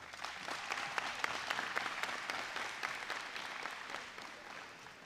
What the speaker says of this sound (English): graduate, please give your parents a thank you and a round of applause